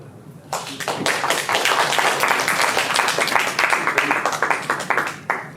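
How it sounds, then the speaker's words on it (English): A conference audience gives a warm welcoming applause for a speaker taking the stage, a dense, sustained roomful of clapping that starts abruptly and holds steady for several seconds before tapering off. "Let's give a warm round of applause to Amy Miao."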